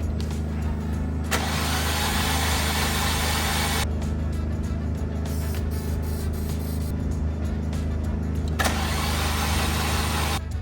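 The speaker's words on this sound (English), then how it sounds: "so let's just go and turn the key" A Fiat Punto from Copart, just back from engine timing work, cranks at length in two long bursts of starter whirring over a steady engine drone, close and loud, without catching.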